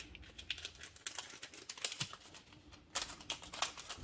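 Greeting cards and envelopes slid into a cellophane bag give off faint, close crinkling and rustling in irregular bursts, with a louder flurry near the end.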